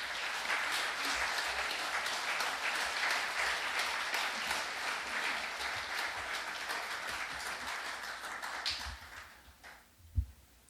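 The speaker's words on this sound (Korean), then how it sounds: "우리 이재철 선교사님 말씀 전에 나올 때 뜨거운 박수로 또 맞아주시면 고맙겠습니다" A church congregation gives warm, steady applause to welcome a missionary. The clapping is dense and moderately loud, fades toward the end, and closes with a single sharp knock.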